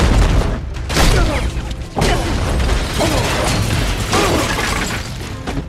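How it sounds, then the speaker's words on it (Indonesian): Explosion aboard the Deepwater Horizon offshore oil rig in the film Deep, with loud sustained roaring, crashing and shattering debris, sharp bursts near 1 and 2 seconds and continuous rumbling chaos throughout. "sehingga membuat Deepwater Horizon akhirnya meledak dan terbakar sangat besar"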